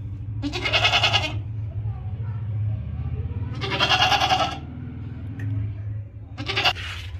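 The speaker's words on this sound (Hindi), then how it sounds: "ब्लैक बकरा है" A black goat meant for sacrifice, with two teeth and nervous in a new place, bleats three times in loud, strained cries spaced a few seconds apart. Someone talks in the gaps and underneath.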